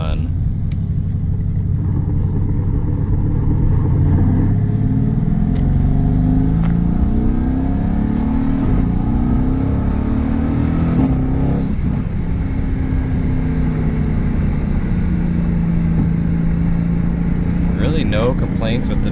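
A 2018 Mercedes-AMG GT C fitted with an Eventuri intake accelerates through the gears, its engine rising and falling in loud, close sweeps heard from inside with the window partly down, with a brief louder burst midway.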